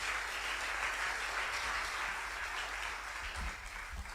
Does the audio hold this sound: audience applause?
yes